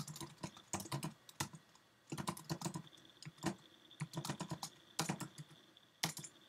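Quick, irregular clatter of computer keys in bursts, fairly close and moderately loud, with brief pauses between runs of keystrokes and a faint tonal hum in the background; no one speaks.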